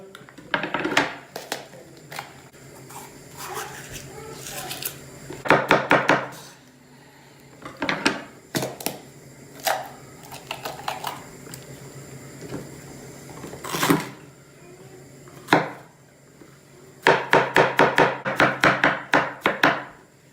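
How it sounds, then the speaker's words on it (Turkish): Garlic cloves chopped with a knife on a wooden board for a restaurant-style chicken sauté, sharp close knocks landing in quick bursts separated by pauses, with no talk. "soğana iki dişle sarımsak doğruyoruz"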